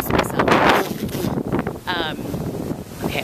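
Strong outdoor wind buffets the microphone in loud, uneven gusts during fieldwork near Denver, with brief speech-like sounds mixed in.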